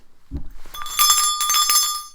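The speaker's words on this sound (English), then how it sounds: "I jingle some bells to break up old, stale energy." Small bells jingle during a home energy-cleansing ritual: a soft thump, then bright, shimmering metallic ringing that is shaken in quick, uneven bursts, close and clear with no voices.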